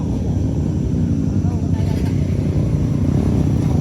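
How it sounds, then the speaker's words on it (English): Motorbikes climb a steep high hill on a damaged road, their engines giving a continuous loud, rough rumble with uneven labouring pulses and no break. "They started climbing the high hill using motorbikes."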